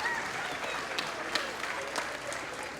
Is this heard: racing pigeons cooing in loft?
no